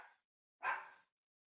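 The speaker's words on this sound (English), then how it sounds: "She's sitting there barking." Dog barking indoors, a single short bark after a faint brief sound, fairly quiet and alone.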